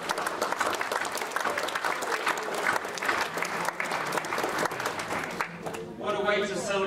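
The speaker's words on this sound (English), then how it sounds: "Let's give our BSCs a big round of applause." Sustained applause from a crowd at a graduation ceremony fills the room, dense and steady clapping that fades near the end as a voice begins speaking.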